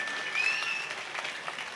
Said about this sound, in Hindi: एक बार अपने लिए भी तालियां बजा लो।